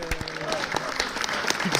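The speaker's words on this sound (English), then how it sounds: "Let's give everybody a round of applause." A debate audience applauds at the close of a live-streamed university debate. The brief clapping is scattered and moderately distant, with voices murmuring beneath it.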